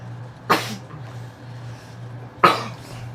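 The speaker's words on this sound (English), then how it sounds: "Why you sneeze so much?" Two sharp sneezes from a person indoors, one at the start and another about two seconds later, close and loud over a steady low hum.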